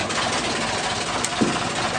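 Project truck engine idling with an exhaust leak, a steady, rough, rumbling drone heard close up and unbroken for the whole stretch.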